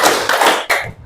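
A few close, loud hand claps in a quick, uneven rhythm, made by children in a classroom counting clap game led by a teacher.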